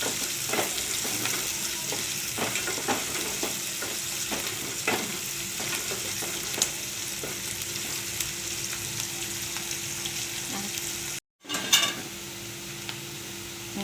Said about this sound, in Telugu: తాలింపు బాగా వేగిందాక వేసుకుందాం.